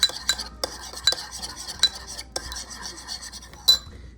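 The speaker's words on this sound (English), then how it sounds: "So now we're going to give them a nice mix." Baby potatoes are stirred with onion powder and salt in a bowl, giving intermittent scraping and clinking of a utensil against the bowl, with several sharp knocks amid rubbing sounds and no talking.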